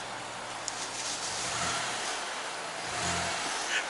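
An Alfa Romeo 159 with a 3.2 V6 rumbles at idle with two short blips of throttle, heard from nearby outdoors against steady background noise and without speech.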